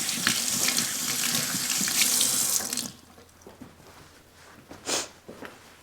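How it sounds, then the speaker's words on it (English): A kitchen tap runs loudly as hands are washed after cutting onions, a strong gush of water that stops abruptly partway through, followed by a quieter room with a brief sniff. "I'll wash up my hands."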